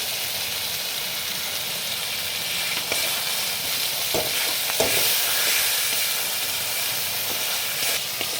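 Spice paste frying in oil for a spicy tangra fish curry gives a loud, steady sizzle with brief scraping stirs cutting through now and then.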